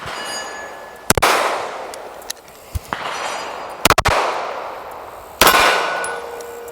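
A Sig P211 GTO pistol fitted with a compensator fires about three sharp, loud shots a second or more apart, each ringing out with a long decaying echo, and light metallic clicks fall between them.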